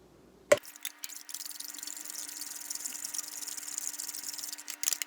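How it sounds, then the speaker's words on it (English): Egg whites poured into a whiskey sour mix, a steady close liquid trickle with a soft gurgle that runs on for several seconds after an initial clunk, with no talk. "now I'm gonna pour my egg whites in."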